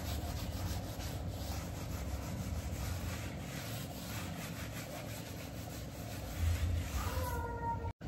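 Steady, rhythmic scrubbing rasps continuously against a hard kitchen floor, close and even, ending with a brief clatter.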